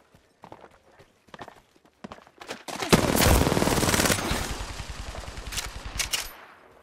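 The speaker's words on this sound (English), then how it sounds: "I'm getting shot at" Automatic gunfire in the video game Apex Legends: a few scattered shots and footstep-like taps, then a long loud burst of rapid fire with sharp cracks trailing off into sporadic shots.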